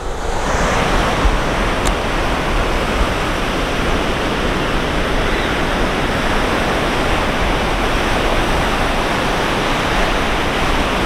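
Ocean waves breaking at a beach, a loud continuous roar of surf with steady wash and wind across the whole stretch, close and full, with no talk over it.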